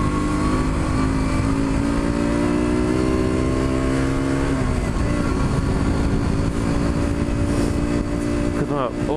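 A 2015 KTM RC 125 motorcycle engine runs loud and steady up close, its exhaust note holding a rough droning pitch that dips and shifts partway through.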